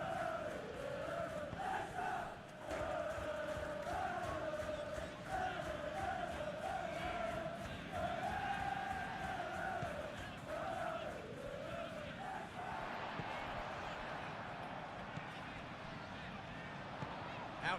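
A stadium crowd in the Football Life 26 video game keeps up a steady roar with rising and falling chants during a match. The crowd noise fades somewhat toward the end.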